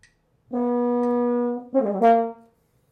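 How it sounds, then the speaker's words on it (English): A brass instrument holds a long steady note, then bursts into a quick run of rapidly triple-tongued notes before stopping. "The technique that I'm using here is called triple tonguing."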